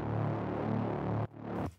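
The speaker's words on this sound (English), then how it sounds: "layered it with a drop bass, which is just a bit more of kind of like a buzzy Reese bassy type sound" A buzzy Reese-style drop bass, with its low end cut, is layered with a main synth bass in a future bass track. It throbs as a dense, gritty drone that cuts off abruptly, then returns briefly before stopping.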